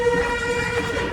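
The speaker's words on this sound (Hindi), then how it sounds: "पहले हॉर्न बजा ले" A motorcycle horn blares close and loud at the Bullet Baba roadside shrine near Jaisalmer, one sustained tonal honk held for the whole brief moment.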